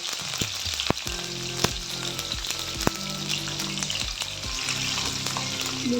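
Finely chopped green chilies and curry leaves frying in hot oil in a pan, with dense crackling sizzle throughout and a few sharp pops and spatters, close and steady, without talking.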